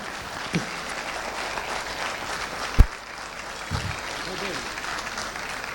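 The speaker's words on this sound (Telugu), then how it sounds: "ఒక్కసారి చప్పట్లతో అభినందించుదాం" Audience applause at a Savitribai Phule birth anniversary celebration at Osmania University, Hyderabad: a steady, broad wash of clapping across the whole stretch with a few sharper bursts, under faint voices.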